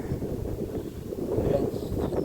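Strong wind on the slopes of Mount Mayon, a low gusty rumble battering the microphone up close, swelling louder midway with no voices over it.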